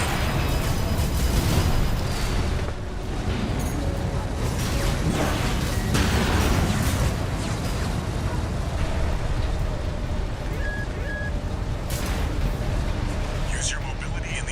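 Explosions on the ground in the mech combat game Armored Core VI, heard as repeated booms, bursts and whooshing blasts with mechanical clatter, dense and loud throughout, with a voice talking over the action.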